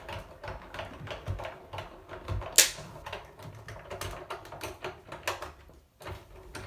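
A die cutting machine feeds card stock through its rollers while making a dimensional bauble card, a close, uneven string of clicks, rattles and grinding crunches with one sharp snap partway, and no voice.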